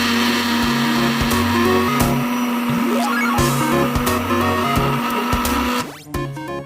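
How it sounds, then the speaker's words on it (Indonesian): A blender blending milk and banana for homemade ice cream whirs loudly and steadily, its motor pitch wavering as the contents churn, then winding down near the end. "Blender susu dan pisang hingga halus dan tercampur rata."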